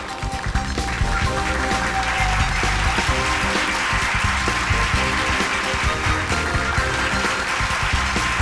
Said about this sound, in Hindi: तालियां दोस्तों।